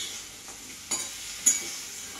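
Giant freshwater prawns fry in a pan with a faint, steady sizzle, broken by two brief, sharper crackles or stirring scrapes, heard close.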